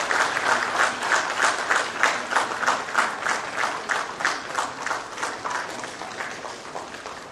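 An audience at a ceremony in Ranchi marking an agreement between the Jharkhand government and SBI claps steadily, a dense roll of applause that holds strong and then eases slightly toward the end, with no talk.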